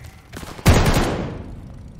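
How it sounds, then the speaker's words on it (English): A single loud shotgun blast in Call of Duty Vanguard, set in Berlin 1945, booms close and then rings out in a long decaying tail. "Shotgun!"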